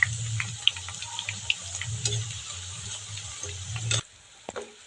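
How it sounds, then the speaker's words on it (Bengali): Papdi dough pieces fry in hot oil over medium heat, giving a continuous close bubbling sizzle with small pops that cuts off abruptly near the end. "আমি একটু আঁচটা মিডিয়াম করে তারপরে পাপড়িগুলো ছাড়ছি।"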